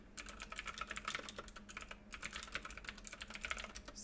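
Keys clatter on a computer keyboard in quick uneven bursts, soft and close, with one short pause before the typing resumes, and no talking.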